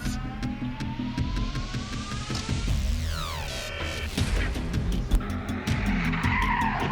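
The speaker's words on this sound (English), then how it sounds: "The truck suddenly swerved onto the sidewalk, then crashed hard into a car parked on the side of the road." A container truck loses control on a road, with loud tires skidding and squealing continuously alongside roaring engine noise and bursts of impact, as it swerves onto a sidewalk and crashes into a parked car.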